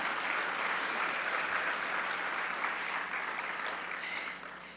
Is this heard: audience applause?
yes